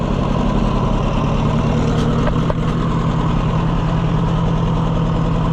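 An Oliver 550 tractor engine runs steadily with a misfire, a loud continuous low idle rumble that dominates throughout, with a couple of faint clicks partway in and no talk.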